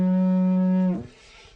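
A didgeridoo holds a steady, buzzy low drone with a tight, brassy trumpet-like edge from lips buzzed too tightly, then breaks off into a rough sputter after about a second.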